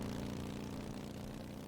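Steady motorcycle engine drone from the video game Road 96, a continuous low rumble held at even loudness throughout with no talking.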